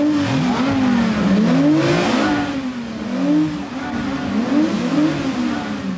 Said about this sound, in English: Just look and listen to these. The 1962 250 GTO and the F355.